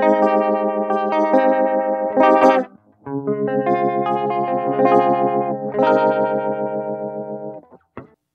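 Electric guitar played through a Dunlop Univibe UV-1 pedal set to vintage mode, loud distorted chords with a swirling, pulsing chorus-like wobble, three sustained phrases separated by brief breaks, up close with no talking.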